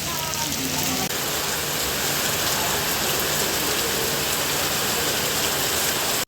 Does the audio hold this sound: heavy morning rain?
yes